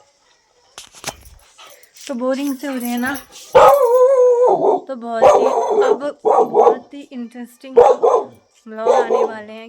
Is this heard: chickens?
no